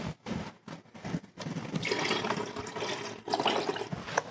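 Water and chicken broth pour into a pot of homemade refried beans, a splashing, gurgling stream that starts after a few bumps and clinks, runs steadily at close range, then briefly surges near the end.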